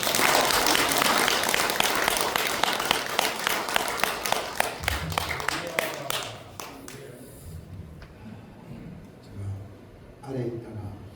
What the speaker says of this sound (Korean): 우리 목사님 나올 때 큰 박수로 우리가 환영하겠습니다